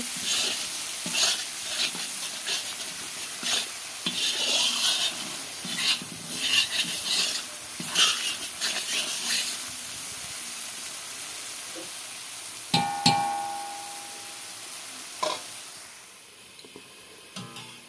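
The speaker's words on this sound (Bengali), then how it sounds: "দেখো মশলাগুলো কষানো হয়ে গেল, এখন তেল ছাড়তে শুরু করে দিয়েছে।" Spices fry in hot oil while being stirred in a pan, a bright crackling sizzle broken by repeated scraping strokes, growing quieter toward the end.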